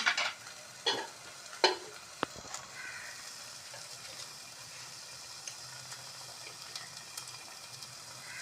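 Shredded boiled chicken is sautéed in oil with cumin, opening with a few sharp scraping stirs of a utensil against the pan, then settling into a faint, steady sizzle.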